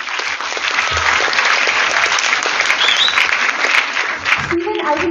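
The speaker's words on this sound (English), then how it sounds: "A big round of applause to all the students present here." Loud applause for students at a live topper's talk event in Ponda, continuous clapping that fills the room for about five seconds, with voices underneath.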